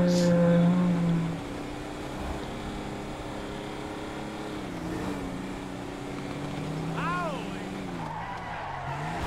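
A car with a punctured tyre skids in GTA Online, a faint, drawn-out engine drone and tyre scrub with wavering pitch, briefly rising near the end, while a voice talks over it.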